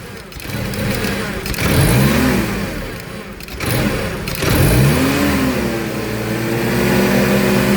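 A car engine with a fault idling erratically, the revs climbing and dropping on their own in two or three rising surges close by, with no one talking.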